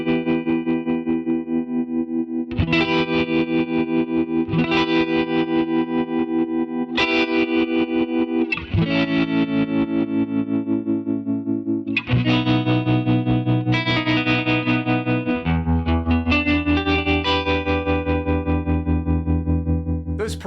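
Distorted electric guitar through a Fractal-style tremolo block with a tilted triangle LFO, sustained chords pulsing in steady volume throbs as new chords are struck every couple of seconds, played alone.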